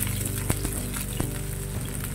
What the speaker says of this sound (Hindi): प्याज को थोड़ा सा फ्राई करूंगी